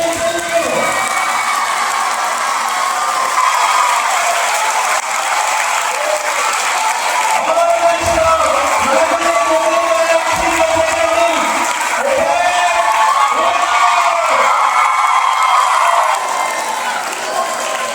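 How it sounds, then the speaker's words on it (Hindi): A school audience at a Teacher's Day event applauds and cheers for the staff, a steady, dense wall of clapping with shouts and whoops running for the full stretch at close, loud level. "तालियां उठनी चाहिए।"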